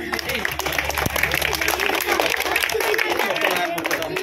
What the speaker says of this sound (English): Give a big clap for the students.